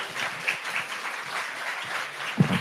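An audience at a talk on mobile game marketing claps steadily. The applause is moderate and a bit distant, with a louder thump near the end.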